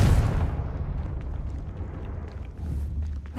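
A Confringo blasting spell goes off in a game as a single heavy explosion, with a deep booming burst at the start that decays into a lingering low rumble with scattered debris crackles.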